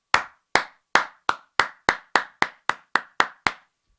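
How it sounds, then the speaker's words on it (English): About a dozen sharp, evenly spaced claps in a slow steady rhythm, crisp and close, each cutting off cleanly into silence, with no voices. "How about a round of applause?"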